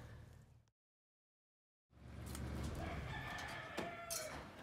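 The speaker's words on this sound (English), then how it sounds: "Those have got to be the nosiest birds I've ever seen in my life." Chickens or roosters wander close around people on a property during firewood and tree work, with clucks and a crow heard over wind and outdoor noise, broken by a short silent gap.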